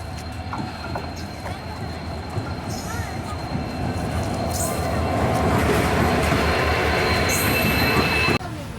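A train runs steadily with a continuous rumble and wheel noise that grows slightly louder, faint squeals above it, and some background voices.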